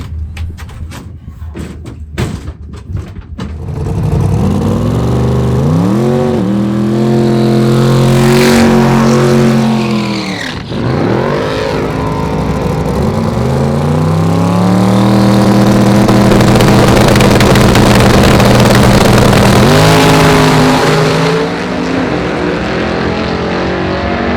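A drag racing car engine runs on methanol after firing up, a loud close engine with a few sharp pops at the start, then repeated revs rising and falling in pitch, alone without talk.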